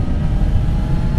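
A Kawasaki ZX-6R motorcycle engine roars loud and close at high revs, a dense steady drone mixed with wind rush, with no voices over it.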